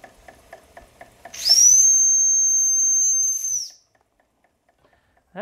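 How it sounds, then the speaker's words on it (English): A model steam engine's whistle blows one long, steady, shrill tone for about two seconds, loud and close, after a run of quick rhythmic chuffing from the engine. "We'll try our whistle and see what happens now."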